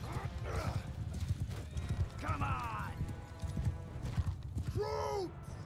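Cavalry hooves clip-clop steadily throughout a Mount and Blade 2 Bannerlord battle, with horses whinnying briefly near the middle and end over a dense low rumble of fighting.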